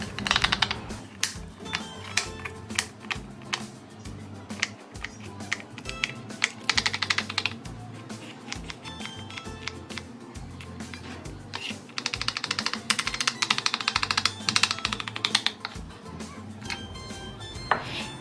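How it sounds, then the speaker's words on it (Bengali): Garlic cloves being cut into small pieces with a knife on a board, a fast, steady run of close, crisp tapping chops that lasts throughout, with brief pauses. "এরপর ছোট ছোট করে রসুনের কোয়াগুলিকে কেটে নেব।"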